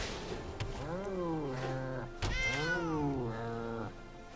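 Two drawn-out cat meows play as a Regal Caracal card enters in MTG Arena, loud and close, each a rising then falling yowl with a brief click between them.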